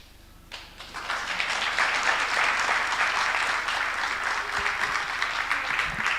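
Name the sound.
assembly applause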